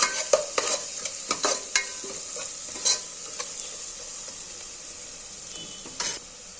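A spatula stirs turmeric into fish curry in a pan, giving irregular scraping strokes against the metal over a faint, steady sizzle, with no talking.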